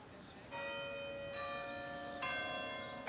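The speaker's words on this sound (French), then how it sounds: "lorsque le tintement des cloches des églises se déclenche" Church bells ring out in Braga, Portugal, with three distinct strikes whose bright tones overlap and linger, heard at a moderate distance over faint background noise.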